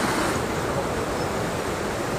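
Jogini Falls in Manali pours down as a loud, steady, broadband roar of falling water that fills the whole stretch without a break and with no voices.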